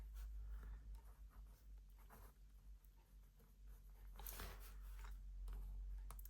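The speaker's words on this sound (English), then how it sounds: "I'm just writing without the lids on" Metallic gel pen, a Helix Oxford, scratching steadily across paper with its cap off, a faint close-up scribble of short strokes and pauses against a quiet room hum.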